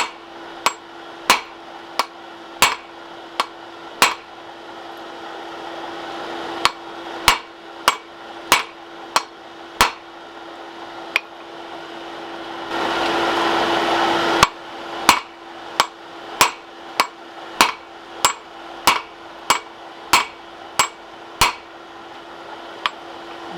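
A hammer forges metal on a Fire Pants Fabrications swage block while making a flatter, ringing out in sharp, evenly spaced metallic strikes, with a brief burst of roaring forge noise partway through.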